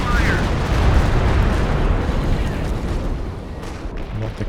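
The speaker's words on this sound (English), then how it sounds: "105 artillery coming down" A 105mm artillery barrage pounds the ground in Company of Heroes 2, a dense, continuous roar of overlapping explosions rumbling heavily for several seconds without a break.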